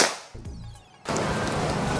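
A Predator Ghost Warrior PCP air rifle charged to 2700 PSI fires a single sharp, loud shot that ends abruptly, followed by a short, quieter interval and then a stretch of steady background noise.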